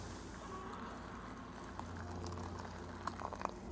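Water heating to a boil in a small pot for field rations, a steady low bubbling and hiss that grows busier toward the end, close and fairly quiet.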